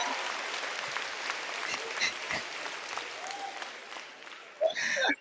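Applause sound effect on a talk show, a soft, fairly even spread of clapping through most of the stretch, ending in a brief louder burst with a voice at the close.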